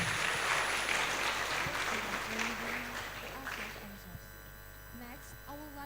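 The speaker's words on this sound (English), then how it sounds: "Please give him applause." Audience applause at a knowledge exchange programme event, clapping that fades over several seconds beneath an electrical hum, with a voice talking as it dies away.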